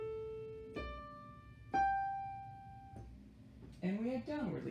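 A keyboard melody jumps upward in leaps, with several distinct sustained notes struck one after another, clear and close, before a voice starts speaking at the end.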